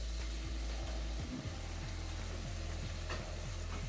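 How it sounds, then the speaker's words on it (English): Cut tomatoes sizzling on high heat in an onion and garlic mixture, a loud continuous frying hiss with occasional stirring scrapes and no talk. "I'm going to add all of my cut tomatoes in and turn the heat up"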